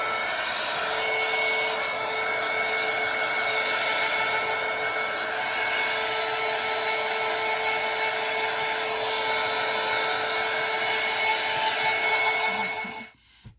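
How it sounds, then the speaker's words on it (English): A hair dryer blows steadily and loudly for several seconds to dry paint on a scrap piece of wood for a vintage Santa print craft, then cuts off abruptly at the end. "Now we'll give this a quick dry as well."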